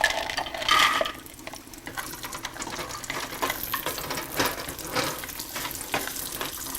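Cashews and golden raisins frying in hot ghee or oil give a steady, close sizzle with crackling pops, alone with no talk.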